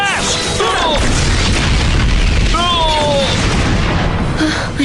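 Dragon Splash attack effect from Power Rangers Samurai: a loud, sustained booming blast with rushing, splashing noise throughout, a few swooping tonal whooshes layered on top.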